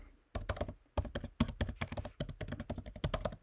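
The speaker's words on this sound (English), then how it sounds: "And I'm going to type that in here" Rapid typing on a computer keyboard as a domain name is entered, a close, steady patter of key presses in short bursts with brief pauses.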